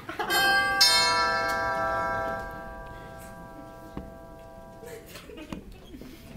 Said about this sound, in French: On a sonné.